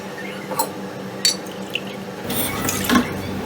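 About one and a half cups of water are poured into a pan for masala chai, a faint splashing that grows into a soft continuous pour with a few light clinks.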